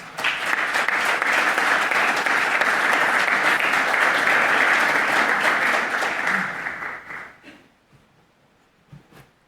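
Audience at an investment conference in Santiago de Chile gives a strong, sustained round of applause welcoming a speaker, steady dense clapping for several seconds that tapers off and falls to near silence.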